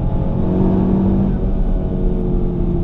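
2017 Honda Civic Type R driving on track at Ridge Motorsport Park, a steady, loud engine drone with a sustained tone running throughout.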